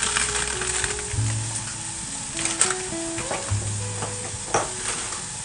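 Curry leaves frying in a little oil with other ingredients give a steady, close sizzle, broken by a few scraping stirs and light clinks, with a faint hum beneath.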